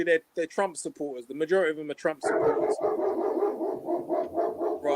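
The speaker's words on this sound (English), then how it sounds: "That's my dog barking." A white German Shepherd barks repeatedly in a fast, steady series after someone speaks, the barks moderately loud and close, continuing to the end.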